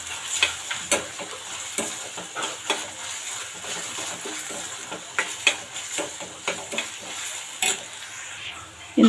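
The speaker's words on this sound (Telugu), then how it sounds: "ఇప్పుడు అన్నీ కలిపి బాగా వేపుకుందాము." Onions and mushrooms with ginger garlic paste are stir-fried in a pan: a spatula scrapes and taps in a busy rhythm over a continuous sizzle, close up, with no talking.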